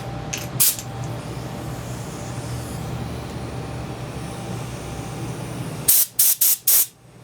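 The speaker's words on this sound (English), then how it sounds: "I'm going to blow backwards through the fuel inlet." Compressed air from a compressor blown backwards through the fuel inlet of a Husqvarna snow blower with an LCT engine: one short blast near the start, a low steady hiss, then four sharp loud bursts at the end.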